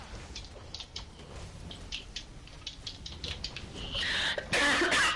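A woman's explosive coughs burst out near the end, loud and close, after a stretch of soft clicking and shuffling with no talk.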